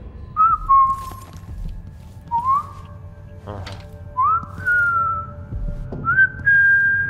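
Someone whistles in Dishonored 2, a series of short rising and sliding whistled phrases repeated four times with pauses between them, over a low rumbling game ambience and a few faint clicks.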